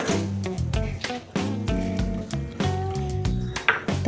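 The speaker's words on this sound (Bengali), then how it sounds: "সবার প্রথমে আমি সুজিটাকে গরম জলে 10 মিনিটের মতন ভিজিয়ে রেখে দিচ্ছি।" Hot water is poured over semolina and it is stirred, giving wet squishy, sloshing sounds with soft knocks, continuous and close.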